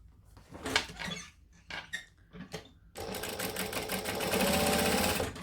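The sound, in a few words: sewing machine top stitching along the outer edge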